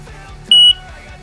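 A combined smoke and carbon monoxide detector gives one short, loud, piercing test beep when its button is pressed, standing alone over faint background hum.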